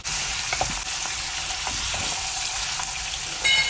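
Chicken fries with garlic in a kadai, a constant close sizzle broken by occasional stirring clinks and scrapes, no talk.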